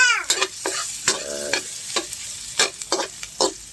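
Garlic frying in a pan is stirred with quick scraping strokes in an irregular rhythm, the spoon clattering close and loud over a soft sizzle, with a brief cat-like squeak at the start.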